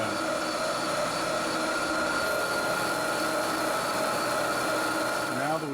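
A metal lathe turns an MT4 Morse taper on a fine finishing pass at 2,000 RPM, producing a loud, steady whine with a dense machine hum that holds unbroken throughout.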